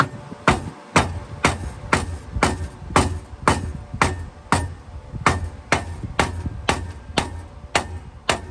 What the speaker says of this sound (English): So I'm grab the hammer and start hammering.